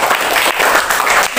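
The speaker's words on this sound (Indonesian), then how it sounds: "Tepuk tangan." Classroom applause after a student group's answer: steady, dense clapping from many hands filling the room, close and loud throughout.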